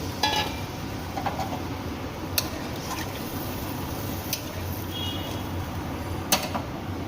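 Water poured into a pan of potato and paneer curry gives a continuous soft hiss of sizzling liquid, with a few faint clicks and light stirring sounds scattered through.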